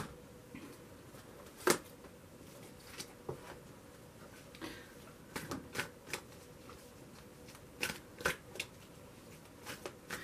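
Oracle cards being shuffled by hand for a tarot reading, a run of soft riffling flicks and sharp card snaps scattered irregularly over a quiet room, close and fairly faint, with no talking.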